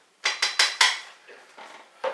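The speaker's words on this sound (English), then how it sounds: "I just want to give my hops a little stir here." Cascade hops being stirred in a metal pot make a run of sharp clanks and scrapes, four quick loud knocks followed by softer rattles and one last clink, close up with no speech.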